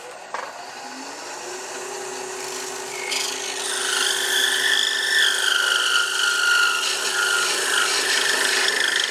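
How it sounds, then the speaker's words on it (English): A diamond stone strokes along a tool's cutting edge to raise a burr, giving a close, continuous rasping scrape that grows louder and brighter partway through, with no talk. "All I do is take my diamond stone and stroke up, put the burr back on it."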